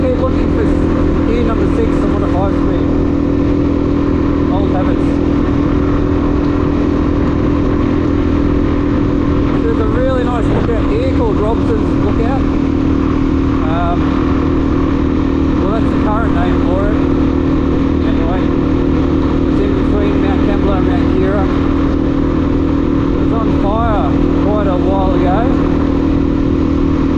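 Motorcycle with a five-speed gearbox running steadily while riding, a constant engine drone with faint shifting pitch throughout, and a rider talking over it at times.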